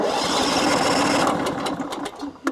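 A sawmill's gas engine idles steadily and close, with a buzzy, even drone; near the end it roughens and a few sharp clatters break through.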